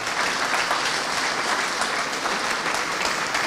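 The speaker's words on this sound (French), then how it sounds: "on peut les applaudir" A crowd claps in steady, dense applause throughout, sustained and even without breaks.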